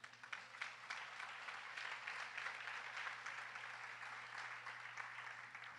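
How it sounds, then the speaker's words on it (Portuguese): Congregation applauding during a church sermon, a steady sustained round of clapping that sounds somewhat distant and fairly soft, continuing evenly throughout. "aplauda Jesus."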